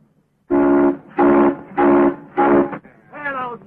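A steam locomotive whistle blows four loud, evenly spaced blasts followed by a fifth wavering, fading toot, heard close and clear in an early sound western film.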